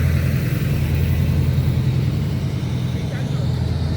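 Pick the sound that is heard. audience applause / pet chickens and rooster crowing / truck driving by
truck driving by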